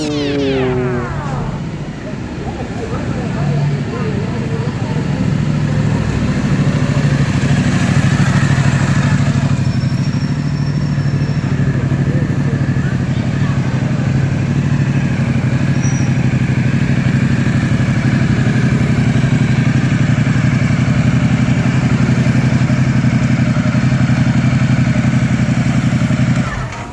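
A Ducati Multistrada V4S motorcycle engine cranks and catches in the first seconds, then settles into a steady, loud, close idle with a deep low rumble and faint mechanical clatter, running continuously without talk.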